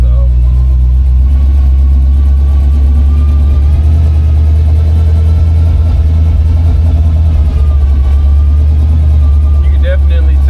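A light 1934 Ford hot rod with a 350 engine drives down the road, its loud mid-range engine note steady and rumbling as the throttle is eased on, with someone talking over it throughout.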